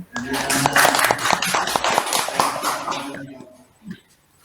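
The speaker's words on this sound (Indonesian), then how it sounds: "Tepuk tangan untuk Bu Rista." Teachers and colleagues clap for the presenter Bu Rista after a teaching-practice review presentation, a dense burst of close applause with voices mixed in that tapers off, leaving quiet with a last faint sound.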